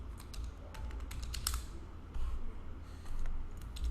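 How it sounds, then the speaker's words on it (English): A name being typed on a computer keyboard, a quick run of light clicking keystrokes, close but faint over a steady low hum. "And so now you can type your name"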